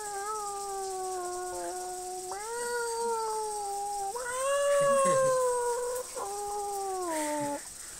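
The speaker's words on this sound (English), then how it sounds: "This one makes you go meow." A toy producing a meowing cat sound, heard as a series of drawn-out, wavering electronic meows with sliding pitch, fairly clear and close, with no talking.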